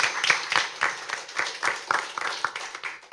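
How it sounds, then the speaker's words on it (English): Applause at a school debate for the All Saints Secondary team, a moderate round of clapping from the audience, steady and alone without talk. "Please give a round of applause for Team All Saints Secondary"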